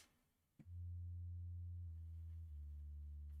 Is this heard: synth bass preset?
yes